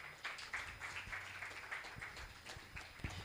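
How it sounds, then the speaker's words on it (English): An audience at the Clean Air Conference 2024 applauding the panelists, steady scattered clapping from a room of people heard at moderate distance, continuing throughout. "Please, a round of applause for them again."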